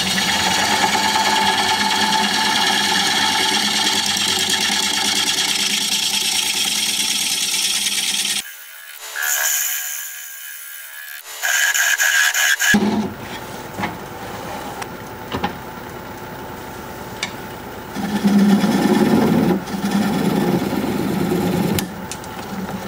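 A wood lathe turns a defective wooden bowl, a close, continuous scraping and rasping of the tool cutting the spinning wood, broken by a few seconds of near silence, then more uneven cutting bursts.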